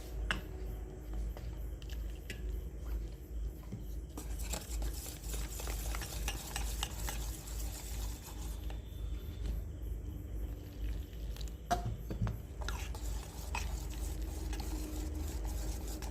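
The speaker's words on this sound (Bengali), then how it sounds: "ভালো করে ফেটে নেব।" Gram flour batter is whisked with water in a bowl, giving a continuous quiet scraping, swishing rhythm with soft clicks, close and alone for the whole stretch.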